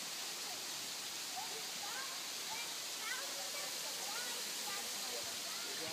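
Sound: Maracas waterfall

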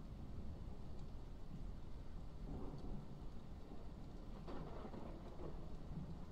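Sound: thunderstorm with rain

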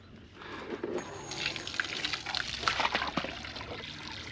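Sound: water running into a livestock trough

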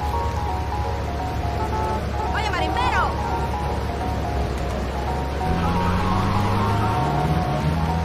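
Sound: police siren in video game GTA Vice City

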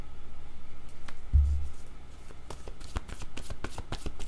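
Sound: cards being shuffled and drawn for a card reading

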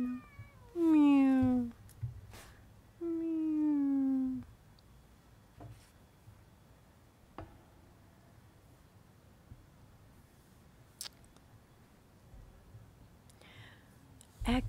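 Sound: cat meowing

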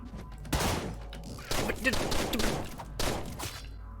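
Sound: gunfire in video game Deadbolt

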